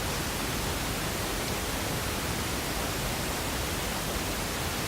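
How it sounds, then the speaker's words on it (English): Steady broadband pink noise, a soft even hiss with a full low end, holds constant and close throughout with no breaks or voices. "This is pink noise."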